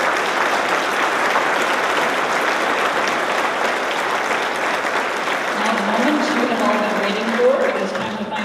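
Sustained applause from an audience at a Wausau Region Chamber of Commerce Athena Award ceremony, honoring the award nominees; steady and full throughout, with a faint voice or tone emerging near the end.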